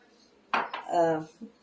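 A spoon scrapes and clinks against a pot while homemade spaghetti sauce is stirred, a short cluster of metallic knocks and a brief ringing clink, fairly quiet and close.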